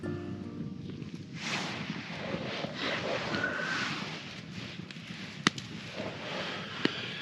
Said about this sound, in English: Got my fire going still.